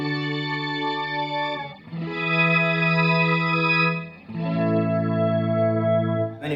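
Soft guitar chords through a Mooer Mooergan organ simulator pedal ring out as sustained, organ-like chords, three held chords changing every couple of seconds, clear and alone.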